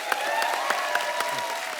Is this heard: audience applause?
yes